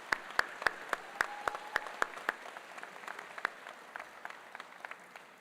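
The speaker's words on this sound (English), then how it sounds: "Let's give her a round of applause." Sparse clapping at a dental medicine white coat ceremony: a few crisp, evenly spaced claps ring out, then thin into softer, scattered claps. The sound is quiet and no one speaks.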